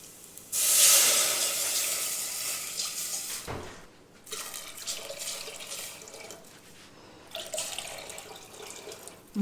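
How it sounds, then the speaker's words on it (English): Water pours into a pot while chicken biryani is cooked, a loud splashing, hissing stream that starts abruptly, then continues unevenly with short pauses and softer trickles. "at this point we're going to add our water"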